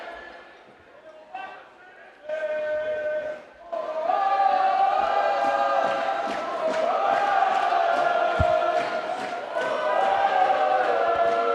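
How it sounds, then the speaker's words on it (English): Loud, building crowd noise from French fans at a women's junior world championship gold medal ultimate frisbee match between France and Canada, a steady roar with shouts and whistles rising throughout, with commentary over it. "French crowd starting to get a bit loud here."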